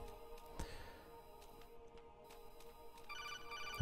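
Incoming codec call ringing in Metal Gear Solid 2: Sons of Liberty, a soft repeating electronic ring rising over quiet game ambience toward the end.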